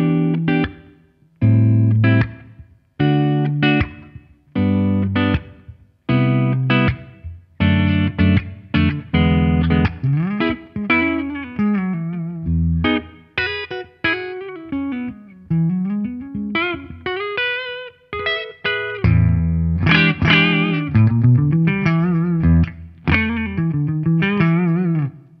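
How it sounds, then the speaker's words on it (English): A clean electric guitar, a Les Paul on its neck humbucker through a clean amp channel, plays warm, round chords and short melodic runs, some notes ringing out, others clipped in a loose rhythm. "Let's hear some clean humbucker tones to finish up"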